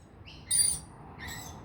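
Wild lorikeets give short, high chirps at a backyard seed feeder, a brief call followed by a louder burst and then a second chirping phrase, fairly close and with no talking.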